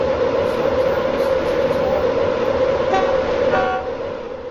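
A Class 91 electric train in the SCR rail video game, its loud continuous horn blast sounding alone and fading slightly at the end.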